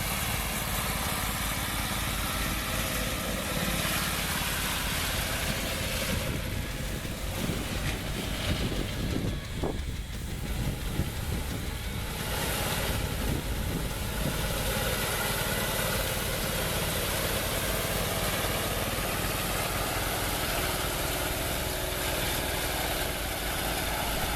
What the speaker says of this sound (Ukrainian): той самий мотоблок, але з такою ось косаркою